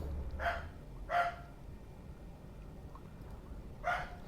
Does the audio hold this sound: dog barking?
yes